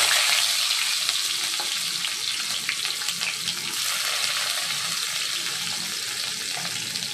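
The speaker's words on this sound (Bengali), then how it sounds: "এবার দিয়ে দেবো কুচনো পেঁয়াজ" Chopped onion frying in hot oil with bay leaf, cloves, cinnamon and cardamom, giving a loud, steady, dense sizzle that runs unbroken throughout with no talking.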